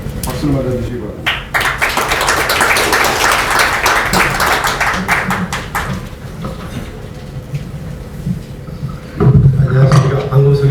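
An audience at a seminar on overcoming the low-birth-rate crisis claps in a dense burst that fades out as the applause ends. Someone speaks over the end of it.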